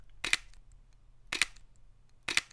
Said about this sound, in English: I'll take this opportunity to let you hear what the shutter sounds like. This is the mechanical shutter.